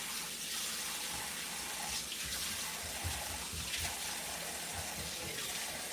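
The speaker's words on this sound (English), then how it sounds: "You see, I'm pouring water on it." Water pours steadily over millet being washed, a continuous, fairly loud rushing and splashing like a running tap, with no talking.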